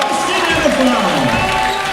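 Basketball crowd cheering for Andre Murray at a Vancouver Volcanoes versus Portland Chinooks game, a loud steady roar filling the arena with a broadcast commentator talking over it.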